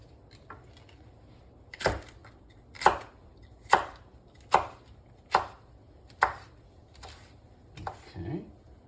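A knife chops bok choy on a cutting board with about eight separate crisp knocks at an even, unhurried pace, close and clear over faint background noise.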